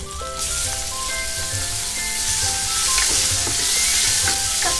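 Anchovy and octopus stir-frying in an iron frying pan with crisped garlic, a loud, close, continuous sizzle with spattering pops and scattered metallic clinks of stirring.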